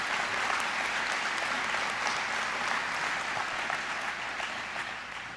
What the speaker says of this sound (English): It's okay, you can clap at that one.